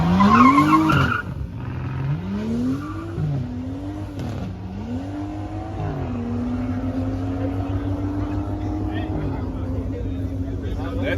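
BMW running stock turbos with a stage 1 tune, racing at a race day in Mexico: an engine revs up and shifts through several rising pitch sweeps, then holds a steady loud drone, with talk over the start.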